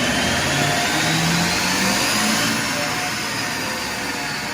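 A loud, steady Duramax LB7 diesel truck engine roar on a dyno with a faint high whistle rising over it, continuous and close, with no voices.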